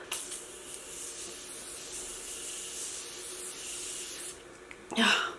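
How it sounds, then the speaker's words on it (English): A fine mist of Morphe Continuous Setting Mist sprays in one long continuous hiss close by, then stops, followed by a brief rustle. "I'm using the Morphe Continuous Setting Mist"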